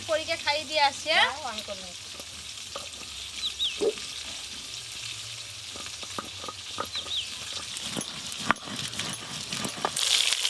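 Rohu fish pieces rubbed with salt, turmeric and chili powder fry in hot oil, giving a steady sizzling hiss throughout with occasional stirring clatter and a brief higher-pitched voice early on.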